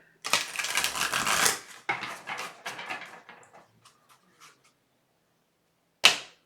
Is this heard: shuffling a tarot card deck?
yes